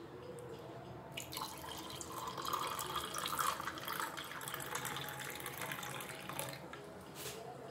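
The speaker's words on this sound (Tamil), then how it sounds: "இப்போ நம்ம ரெடி பண்ணி வச்ச கேரட் ஜூஸ் அதில் சேர்த்துடலாம்." Carrot juice is poured over ice cubes in a glass, making a soft, continuous liquid trickle and splash that swells briefly in the middle, faint and close with no talking.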